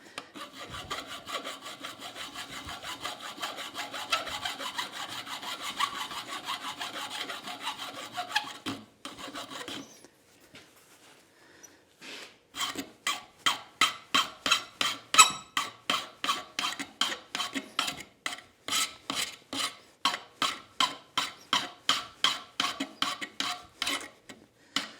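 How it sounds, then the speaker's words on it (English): A rasp files the end of a hot forged steel tool, first as a continuous scraping rub, then after a pause as regular rhythmic strokes, close and distinct. "you can always run a hot rasp on it"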